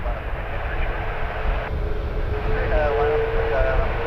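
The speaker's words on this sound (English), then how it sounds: "Another Dreamliner is also taxiing." A Boeing Dreamliner jet airliner taxiing at Toronto Pearson airport gives a steady, fairly distant engine roar and whine that swells slightly over a few seconds, with a voice talking over it.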